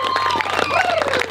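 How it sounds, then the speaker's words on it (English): Crowd applause with some cheering at the World's Strongest Man competition, a big round of clapping for the equipment crew, loud and continuous through the short stretch. "big round of applause for all the equipment crew."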